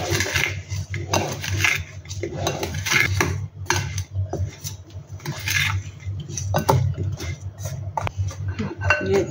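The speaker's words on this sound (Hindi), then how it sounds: "इसको अच्छी तरह से मिक्स कर लेंगे।" Pickle ingredients being mixed with salt and spices in a dish for Indian kari pickle, with repeated clinks and scrapes of a utensil against the dish, steady and close throughout.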